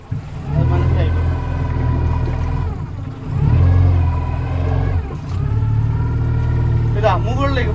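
A glass-bottom boat's engine drones steadily at sea off Lakshadweep, a continuous low hum that rises and dips as voices talk over it.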